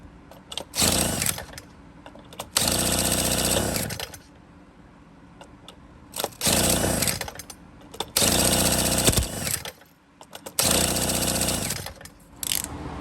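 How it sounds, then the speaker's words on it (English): A small two-stroke Homelite Ryobi leaf blower engine, with carburetor gasket and spark plug problems, bursts to life in several short, loud spurts, each dying out after a second or so, with quieter pauses between. "It did cough and sputter a few times for about a second"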